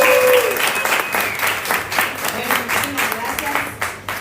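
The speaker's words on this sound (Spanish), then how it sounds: "Y un aplauso para ustedes, por favor." Audience applause at a public talk event, a dense wash of many hands clapping that starts loud and thins slightly over about four seconds, with a faint voice briefly audible at the start.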